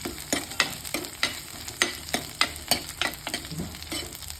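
Curry masala sautés in a hot pan with curry leaves, a continuous close sizzle broken by regular scraping strokes of a spoon stirring it, roughly two per second, with no talking.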